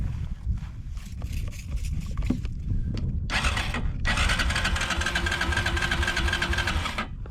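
A Honda TRX ATV engine cranks over in quick mechanical bursts with choke applied, rough rattling turns that give way to a longer, steadier sputtering run near the end.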